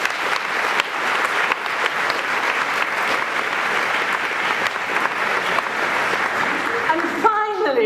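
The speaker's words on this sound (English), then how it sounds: "could we give you a round of applause as well?" A conference audience in Manchester gives a round of applause for the event sponsors: dense, loud, continuous clapping from a large crowd, with brief voices and shuffling as it ends.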